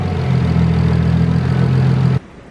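Freshly installed RB engine idling in Shane's car in a garage, a loud, steady, close-up droning idle with an even low hum that cuts off abruptly just before the end.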